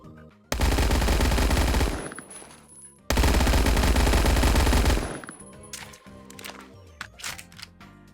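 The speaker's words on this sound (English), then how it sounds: "And this is what the PPSH-41 sounds like." Two loud bursts of rapid full-auto fire from a PPSH-41 submachine gun in the WWII-themed game Phantom Forces, each lasting about one and a half to two seconds, followed by quieter mechanical clicks and reload clatter.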